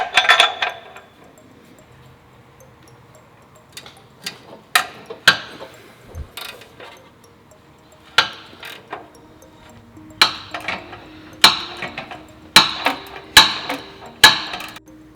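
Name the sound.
wrench removing O2 sensors from car header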